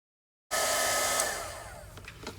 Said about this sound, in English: I'm gonna speed through this part where I'm embossing because this is gonna be making some noise